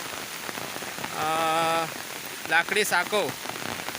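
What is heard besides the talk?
heavy rain falling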